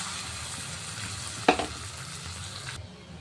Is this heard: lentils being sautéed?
yes